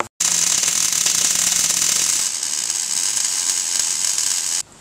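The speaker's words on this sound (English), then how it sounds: "and now I'll stitch weld it in place" Stitch welding a fish plate onto a 4WD: a loud, continuous hiss with crackle, close up, lasting several seconds without a break before cutting off abruptly.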